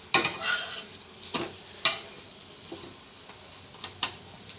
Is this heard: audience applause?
no